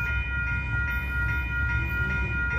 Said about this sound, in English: here comes Amtrak train number 11.